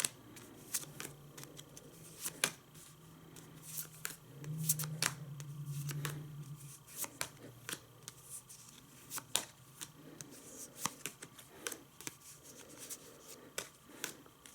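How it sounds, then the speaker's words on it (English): Cards for the Cobra Kai board game dealt onto a table, soft flicks and snaps landing one after another in a loose rhythm, close by, with faint shuffling and handling between them. "Deal 9 cards to each person."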